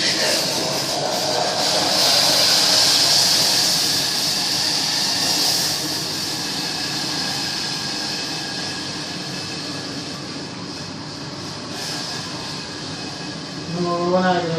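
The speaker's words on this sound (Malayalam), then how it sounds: "ഇത് തിളച്ച് നല്ലോണം തിളച്ച് വരണം" Liquid boiling hard in a heated pot gives a steady, loud hissing bubble with a low rumble underneath, continuous throughout, with a brief voice near the end.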